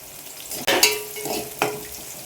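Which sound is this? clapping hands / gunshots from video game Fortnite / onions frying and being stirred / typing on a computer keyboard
onions frying and being stirred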